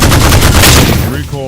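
Gunfire from a weapon in Holy Shoot, a roguelite shooter game: a dense, loud run of rapid shots over about a second, then a brief tail as the firing stops.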